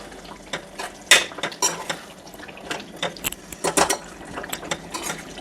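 Chicken curry is stirred in a pan, with a spoon making repeated irregular scraping and clinking knocks against the metal over a low background hiss.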